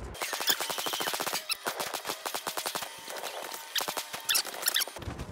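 Rapid bursts of video game gunfire from Resident Evil 3 crackle in fast repeating volleys with brief pauses, sharp and dense throughout, with no talking.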